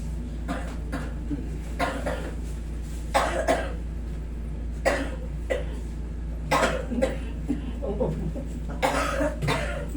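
Several separate coughs, about six over ten seconds, irregularly spaced against a steady low hum, with some throat clearing between them.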